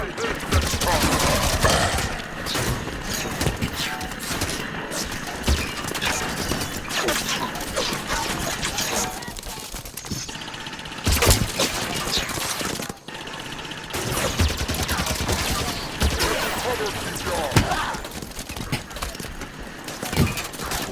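Enemy gunfire in Halo 5: Guardians rattles on without a break, dense bursts layered with mechanical clatter and occasional heavier cracks, loud and close for the whole stretch.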